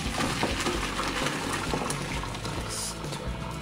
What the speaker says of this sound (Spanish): ya que están herviditas, las vamos a escurrir de agua.